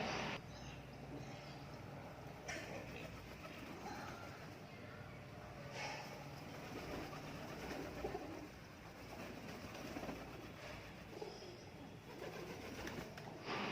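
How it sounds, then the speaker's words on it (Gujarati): Soft, low pigeon coos repeat over a murmuring outdoor background, with occasional rustles and faint distant sounds. "એ મમ્મી આવ્યા કબૂતર."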